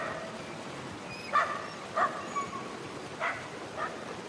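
A dog in the video game Somerville barks a few times, short yips spaced irregularly and sounding somewhat distant over a steady background hiss.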